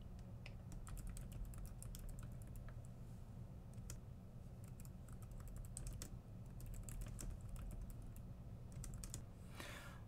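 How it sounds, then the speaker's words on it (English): Someone types on a computer keyboard in quiet, rapid bursts of clicky keystrokes, with a short pause midway, over a low background hum. "I'm going to type this problem for you just like I did the last one."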